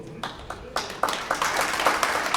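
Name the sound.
congregation applauding in church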